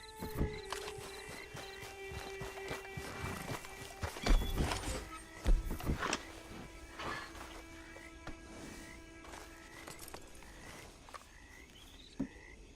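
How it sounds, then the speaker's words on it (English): Horse hooves clip-clopping in the Red Dead Redemption 2 video game, irregular footfalls with a couple of louder thuds midway, set against croaking frog calls and quiet ambient sound. "Then you better get on this horse."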